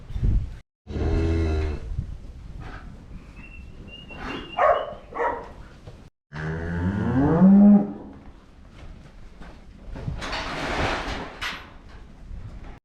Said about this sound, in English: it's time to wean the calves